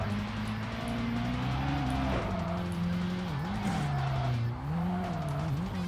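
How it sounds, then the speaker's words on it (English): Video game racing car engines in Tokyo Xtreme Racer: Drift 2 roar steadily with shifting pitch as gears change, tires squealing now and then, loud and continuous. "You can enjoy the car sounds."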